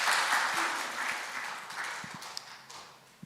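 Church congregation applauding at a Korean Presbyterian Sunday service, a moderate wash of clapping that slowly fades, with a few sharper individual claps near the end.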